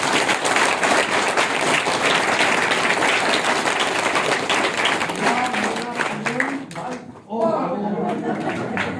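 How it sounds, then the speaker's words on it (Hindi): A crowd claps loudly and steadily at a Brahma Kumaris class, the applause thinning toward the end as voices and chanting emerge underneath. "जोरदार ताली बजाओ।"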